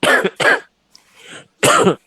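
Two sharp close coughs in quick succession, a brief soft pause with faint breath, then a third harsh cough.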